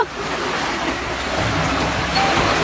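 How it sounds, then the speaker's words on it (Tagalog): Sea waves wash steadily along the shore at Padong Hunas in Camotes, a continuous broadband surf with a little wind noise, close and fairly loud throughout. "Muni siyang dagat diri guys sa Camotes, Padong Hunas."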